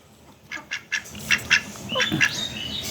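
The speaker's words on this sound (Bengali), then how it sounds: "দেশি হাঁস" Black domestic ducks give a series of sharp, close quacks in an uneven rhythm, several in quick succession, over a quiet yard at midday.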